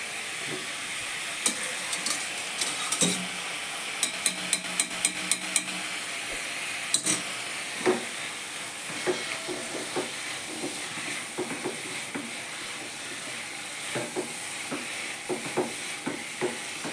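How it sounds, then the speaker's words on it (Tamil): Broccoli stir-fried in a sizzling pan for spicy veg pasta, a steady frying hiss with repeated sharp clicks and taps of a utensil against the pan, close and fairly loud. "இப்போ வந்து இந்த ப்ரௌக்லியை வந்து அதில் சேர்த்துடலாம்."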